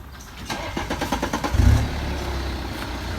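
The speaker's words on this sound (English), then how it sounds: "So we're going to first start off our car." BMW 320d GT diesel car starting up: a burst of rapid cranking pulses builds to a loud catch near the middle, then settles into a steady, close idle rumble with no talking.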